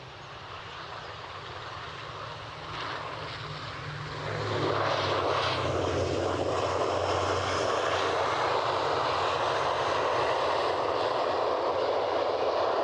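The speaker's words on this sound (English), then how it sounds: "let's appreciate a brand new ATR." Brand new ATR turboprop passing at Edinburgh, a low propeller drone and engine roar that rises sharply to a loud, sustained pass and holds steady, with no talking.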